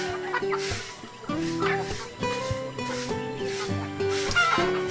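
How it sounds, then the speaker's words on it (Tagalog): Pet Chinese chickens clucking close by, a steady run of short overlapping clucks with some rising calls, continuous throughout. "yung mga alaga natin, mga maalaga na manok. Chinese chicken siya guys"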